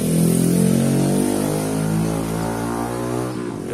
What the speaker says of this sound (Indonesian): Aduh, sorry suara motor.